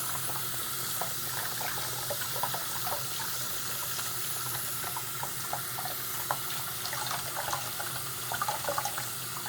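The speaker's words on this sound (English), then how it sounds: "Gotta rinse it out really well." A tap runs steadily as doll hair is rinsed under it, a close, continuous splashing wash of water with small irregular spatters and no speech.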